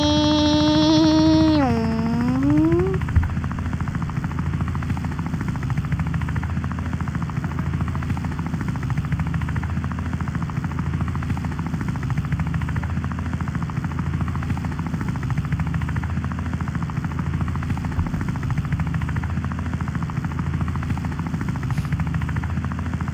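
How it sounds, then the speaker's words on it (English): A helicopter's rotor in the video game Wobbly Life drones steadily and loudly throughout, preceded by a brief rising and falling electronic tone at the start. "Get in the helicopter quick!"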